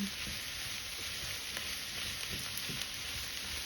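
Zucchini quiche filling cooks in a pan, giving a soft, continuous sizzle with light stirring clicks scattered through it, quiet and close.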